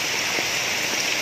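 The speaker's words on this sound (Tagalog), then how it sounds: "Napakalakas po ng ulan ngayon." Heavy rain pours down in a steady, dense, loud hiss with no breaks, filling the whole short stretch without any voices.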